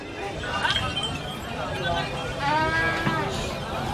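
Several goat-like bleats rise over a busy background with people talking nearby, the calls wavering and repeated at irregular intervals.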